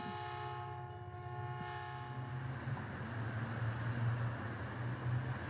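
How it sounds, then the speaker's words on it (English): Train sound effect: a loud, steady rumble of a passing train with a sustained horn blast layered over the rolling wagons, close and continuous with no voices. "Train."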